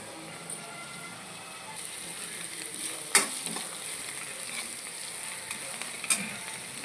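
Spiny gourd (aakakarakaya) softening in oil in a covered pan, giving a steady low sizzle throughout with a few faint clinks, no voices.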